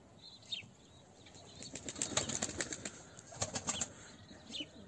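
A trained young male steppe crested white-tailed pigeon bursts into flight from a loft, its wings clapping in a rapid flurry of close, loud flaps for a couple of seconds, with faint chirps before and after.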